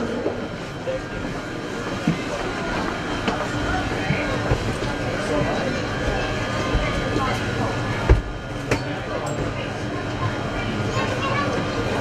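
A London Underground train stands at Leicester Square, southbound, with a loud continuous rumble and hum of the carriages and platform, broken by a couple of sharp clanks.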